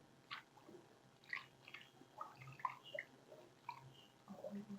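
Block-printed cloth is soaked and washed in water, producing faint, close squishing and dripping with scattered small splashes over a quiet background.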